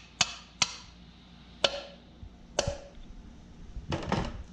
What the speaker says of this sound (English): we just take and lightly tap to loosen up the keepers